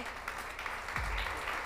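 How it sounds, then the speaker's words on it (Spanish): Audience applause at a women's football leadership conference in Mexico, a soft, steady patter of many hands clapping at some distance, fairly quiet, with a low thump partway through. "Démosle un aplauso, por favor."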